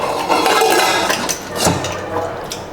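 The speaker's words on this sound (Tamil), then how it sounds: "இது வந்து மூடி போட்டு மூடிடலாங்க." Metal clatter and clinks of a pressure cooker lid being fitted over lentils covered in water, a few close knocks and scrapes with light rattling in between, no talking.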